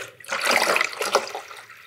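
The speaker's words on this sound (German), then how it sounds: "fülle jetzt einfach mal einen Wassertank, der hinter dieser echt schweren Metallblende, also das ist eine Edelstahlblende, steckt" Water is poured into the 1.5-litre tank of a Sanremo YOU espresso machine, which sits behind a heavy stainless steel panel. The pour is close and splashing, and it lasts just under two seconds.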